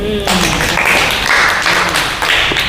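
A room of listeners in a Bible lesson claps loudly for a student's question about the prodigal son, a dense, continuous patter of many hands close by, with voices mixed in.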